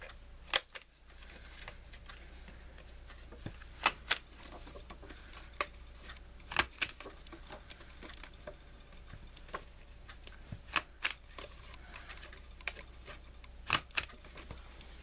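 A 3/8 corner chomper punch rounding the corners of a handmade Easter card, sharp crisp clicks repeating at irregular intervals, close and fairly quiet over a faint steady hum.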